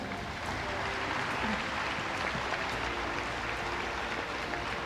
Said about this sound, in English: So how about a big round of applause to our hard-working swimmers?